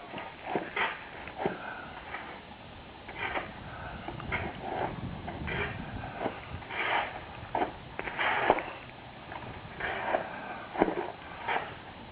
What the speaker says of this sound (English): my neighbors chipping away at their ice, trying to open up their driveway